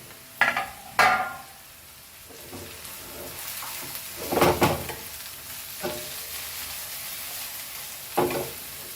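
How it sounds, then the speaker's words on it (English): Cabbage stir-fried in a wok for veg fried rice: a few sharp spatula scrapes and tosses at irregular intervals over a soft, steady sizzle, close by, with no talking. "Now let's add our cabbage to this and fry this too."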